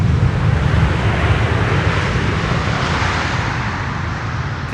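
A KLM airliner landing on runway 18R at Schiphol with idle reversers, a loud steady low engine roar and rushing wind noise throughout, fading slightly toward the end.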